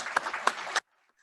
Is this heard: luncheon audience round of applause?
yes